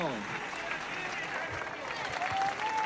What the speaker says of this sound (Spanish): Lo aplauden mucho